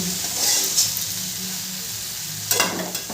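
Cauliflower frying in a pan for a vegetarian navratan korma, a constant close sizzle with occasional scraping stirs and a louder stir toward the end, no voices.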